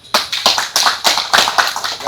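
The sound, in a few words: applause at a prize ceremony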